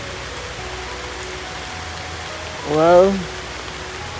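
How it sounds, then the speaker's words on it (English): Steady rain falls outdoors in Trinidad and Tobago ahead of a cycling tour stage, a broad even hiss running throughout, with a brief voice rising over it near the end. "And guess what? The rain has come."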